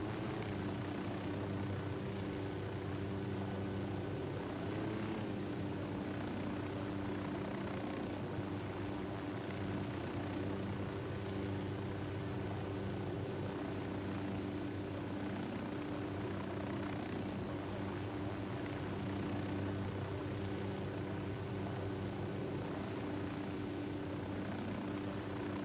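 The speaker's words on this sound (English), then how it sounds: "Deploying drone." A video game drone hovering in flight, giving a steady, droning rotor hum with a constant buzzing tone that holds level and moderately quiet for the whole stretch, with no speech.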